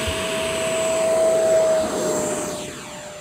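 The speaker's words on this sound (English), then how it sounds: "Just loving flying this plane" An E-flite Viper V2 70mm electric ducted-fan RC jet flying past after sunset, a loud steady high-pitched whine that swells as it nears and shifts pitch as it passes and fades.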